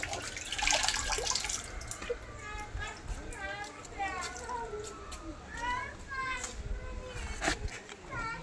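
Water pours and splashes steadily as a fish tank left uncleaned for a year is drained, with a voice talking over the flow.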